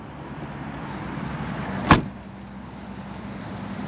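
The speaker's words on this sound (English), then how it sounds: "to close the boot, you just simply pull on this tab" A single short thud as the boot lid of a Jaguar XK R 400 convertible (X100) is pulled shut by its tab, standing out once over a quiet steady background.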